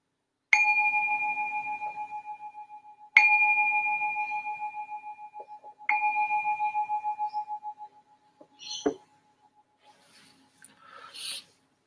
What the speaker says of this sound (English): I'm going to ring the bell to signal the start of the meditation.